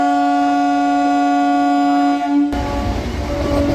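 A MEMU passenger train pulling out of Aler station sounds a long, loud, steady horn blast, then breaks into a close, heavy rumble and clatter of the moving carriages.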